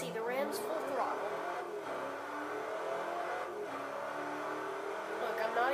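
Bugatti Veyron in Forza Motorsport 4 at full throttle, engine roaring and climbing steadily in pitch through gear changes, loud and continuous, with a voice talking over it.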